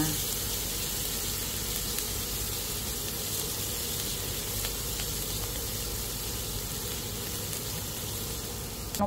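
Butter sizzles steadily in a hot pan as it is sautéed for lumpiang shanghai filling, a constant close frying hiss throughout with no pauses.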